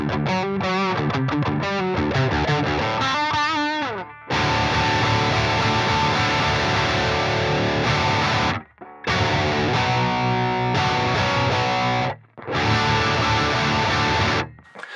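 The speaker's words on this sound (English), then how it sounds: "Let's start with a lower gain chuggy sound." Chuggy, lower-gain distorted electric guitar played through the Bogren Digital AmpKnob Rev C plugin: loud, dense palm-muted riffing in several bursts separated by brief silences.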